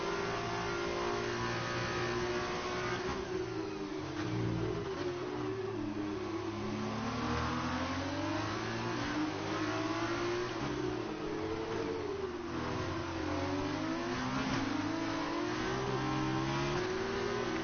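A Formula 2 race car engine screams in the F2 2019 video game, revving continuously with rapid rising and falling pitch sweeps as gears change, loud and constant throughout.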